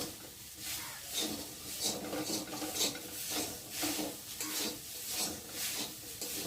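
Chira pulao, flattened rice, is stirred in a pan with a utensil, producing rhythmic scraping and rubbing strokes that repeat roughly every second at a steady, moderate level.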